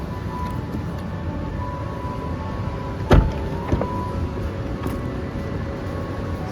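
The rear door of a 2025 Tesla Model Y is opened by its electronic button: a sharp unlatching click followed by a couple of softer knocks, set against a quiet, steady cabin hum.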